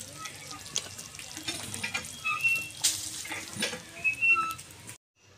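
Tiger prawns are stirred in a simmering pan, a close bubbling sizzle with scraping stirs and scattered clinks that cuts off abruptly near the end.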